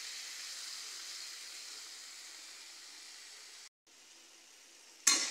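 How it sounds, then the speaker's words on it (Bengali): Elephant foot yam frying in oil in a pan gives off a steady, soft sizzle that runs continuously, with a brief gap and a sharper burst of hiss at the very end. "এভাবে নাড়াতে থাকবো মাঝে মাঝে।"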